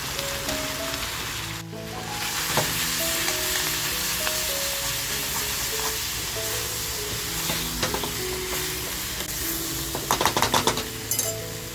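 Bombil (Bombay duck) pakodas frying in oil sizzle steadily and close by under background music, with a few clinks of a utensil against the pan toward the end.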